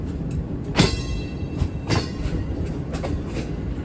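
A passenger train pulls in at Kaliya Mawan railway station, seen from an AC standard coach on a loop line, with loud rumbling and periodic clacks of wheels over rail joints.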